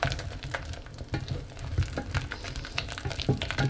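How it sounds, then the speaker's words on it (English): Flour being stirred into a hot pan for a cheese soufflé base: a soft, continuous sizzle with faint scraping of the spoon, close and quiet, with no talking. "we put our flour inside and mix it well"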